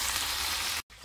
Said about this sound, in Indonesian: Tuh, goreng sampai layu.